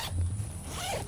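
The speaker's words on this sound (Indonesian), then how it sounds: "Jadi sebetulnya bisa ngebuka resleting dari bagian bawah kayak gini." A zipper on a Kelty Cosmic Synthetic 20 synthetic sleeping bag is pulled open in one short, close, continuous rasping zip with no talk.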